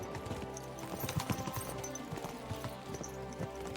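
Hooves clip-clop in a quick galloping rhythm, fairly close, with a soft musical bed behind them, from a horse in the video game Kingdom Come: Deliverance 2.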